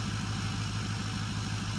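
Pickup truck engine idling in the Farming Simulator game, a steady low rumble with a continuous even drone and no voices.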